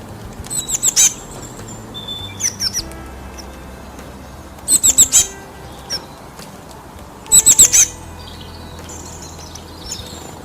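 Voices imitate bird song with high, quick chirping bursts in four short clusters, separated by quiet pauses, fairly close and clear.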